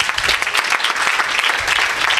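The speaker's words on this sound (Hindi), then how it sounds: "आए बाइबल के लिए जोरदार तालियां बजा देंगे" A burst of enthusiastic applause from a crowd, steady dense clapping for the whole short stretch.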